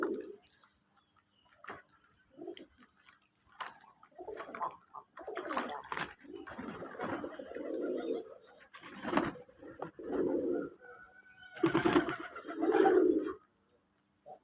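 Domestic pigeons coo in repeated soft, throaty bursts at close range, with brief gaps between the calls and occasional faint clicks in the background.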